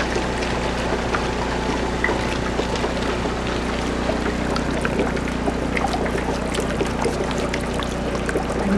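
Dense HHO gas bubbling through water in a one-gallon bubbler on a 118-plate hydrogen cell, a steady loud churning fizz with constant low hum, no speech.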